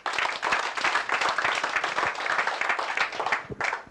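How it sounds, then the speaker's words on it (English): An audience at an outdoor broadcast event claps steadily for several seconds, a dense close burst of many hands that fades briefly near the end before a final flurry. "Make una clap for them"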